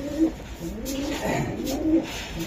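A male racing pigeon coos nearby in a few soft, low, throaty rolling calls, with faint background noise and no talking.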